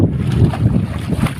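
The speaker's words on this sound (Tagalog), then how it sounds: "Mahangin na eh, kaya malamig." Wind gusting outdoors beside a resort swimming pool, a steady close rumble of buffeting against the microphone with no talk.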